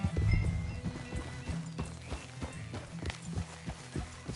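Horse hooves clip-clop steadily in a PS4 video game, with a whinny near the start and rhythmic footfalls continuing throughout, fairly close and moderately loud.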